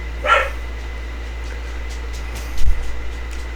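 A pretty female dog barks at someone walking by, one sharp nearby bark at the start and then a short burst of several barks later, over a steady low hum.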